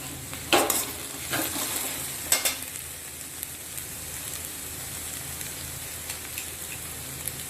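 Ponnanganni spinach greens sauté with onion, garlic and ginger in a pan, giving a soft, even crackling sizzle with a few sharp stirring knocks near the start.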